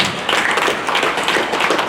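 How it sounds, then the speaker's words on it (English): A crowd at a Women's Month proclamation signing gives a sustained round of clapping, a thick, crackling wash of many hands at steady, fairly loud volume. "Please, let us give those women a big round of applause."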